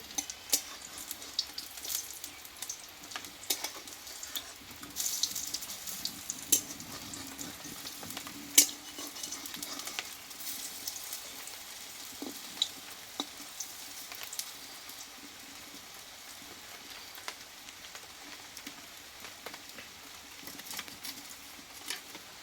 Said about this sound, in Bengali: দেখো ডালের বড়াগুলো আমি উল্টিয়ে নেবো এক পিঠ কিন্তু এখানে ভাজা হয়ে গেছে